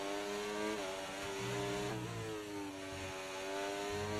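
F1 race cars in the F1 24 video game, with two McLarens overtaking in an online lobby race, high-pitched engines whining steadily with shifting tones as the cars run close together.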